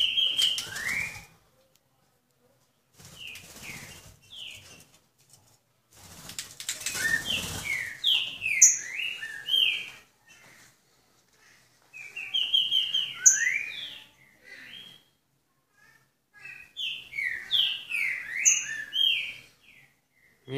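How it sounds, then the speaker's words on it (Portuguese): A pair of caged white-necked thrushes, sabiá-coleira, sing in repeated bursts of bright, clear whistled phrases close by. Quiet pauses separate the bursts, and a few rustling, fluttering sounds come between them. "Casal Sabiá Coleira."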